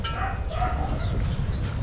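A dog barks and yips amid a busy outdoor scene at a shared meal, the barking mid-distance and partly masked by steady low rumble and background voices.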